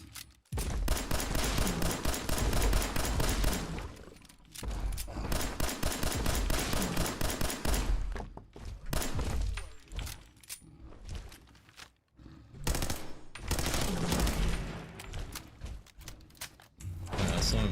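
Rapid, loud gunfire bursts from the video game Fallout 4 arrive in dense volleys separated by short gaps, with automatic weapon fire dominating throughout.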